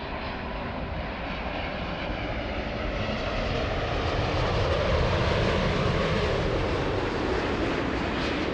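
A Boeing 787 airliner at Narita airport produces a broad, continuous engine roar that rises gradually in loudness, steady and distant, with no voices.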